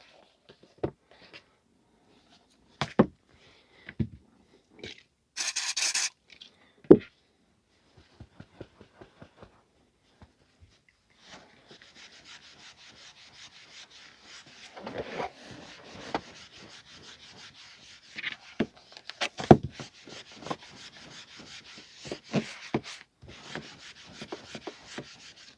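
A duster is rubbed gently over the covers of vintage Penguin paperbacks, giving soft, close scraping and rubbing strokes in short bursts with brief pauses, then a longer stretch of steady, quiet brushing with a few louder taps.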